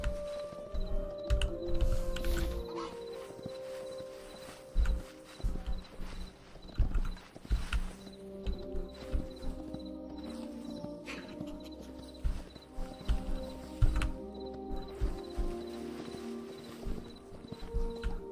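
A horse gallops across open terrain in the video game Hytale, with rhythmic hoof clip-clops pounding steadily, a few louder thuds, and occasional whinny-like tones in a game soundscape, with no speech over it.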